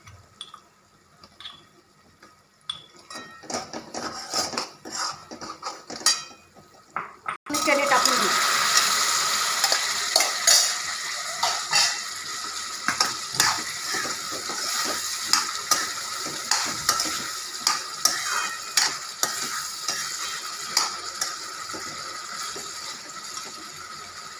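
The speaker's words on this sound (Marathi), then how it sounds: "आपली लसण जिऱ्याची पेस्ट चांगली शिजली आहे तेलामध्ये" A garlic and cumin paste sizzles in oil in a pan, starting as sparse crackles and scrapes, then turning into a loud, steady frying hiss with repeated stirring clicks for over twenty seconds.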